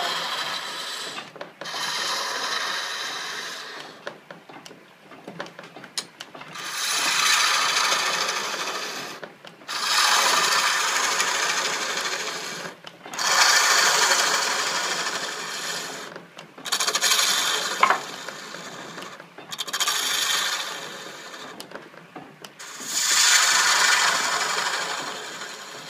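Wood rasped and filed by hand while shaping a spinning top, in repeated strokes of a few seconds each with brief pauses between them, fairly close and steady, at a historic village craft demonstration.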